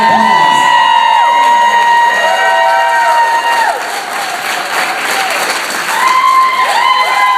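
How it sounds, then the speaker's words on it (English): Wedding guests applaud and cheer loudly after a best man's toast, steady crowd clapping with whoops mixed in, while sustained tones sweep in and out beneath the noise throughout. "applause."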